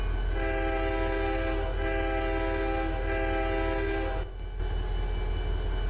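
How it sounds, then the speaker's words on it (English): A steady multi-tone diesel locomotive horn on an ATSF SDF40-2 in the game Trainz 2019 blares over a low rumbling engine, sounding in repeated long blasts with a brief dip near the end. "that horn just sounds a little boring"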